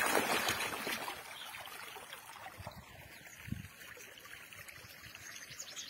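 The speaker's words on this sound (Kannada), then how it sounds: "ಅದು ಚೆನ್ನಾಗಿ ಬರ್ತೈತೆ ನೀರು" Water flowing out of an irrigation pipe on a farm with summer groundnut crops makes a steady, soft rushing wash that goes on without a break and without any voices.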